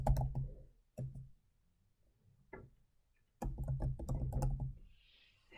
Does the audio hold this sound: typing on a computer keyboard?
yes